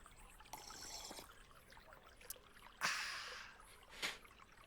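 A character drinks water in the Rosewater adventure game, with faint, quiet splashing and slurping trickles and a couple of brief, stronger gulps near the end.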